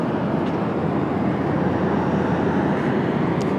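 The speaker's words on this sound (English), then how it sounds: "Had one touching down from Munich right now." A Boeing 777 or Dreamliner arriving from Munich touches down on runway 19 left at Washington Dulles on a cloudy day, a brief, steady, heavy jet roar at constant loudness.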